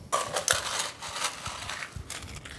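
Ice clatters and crunches as it is scooped into a glass for an Irish cocktail, with several crisp, close bursts of cracking and crushing.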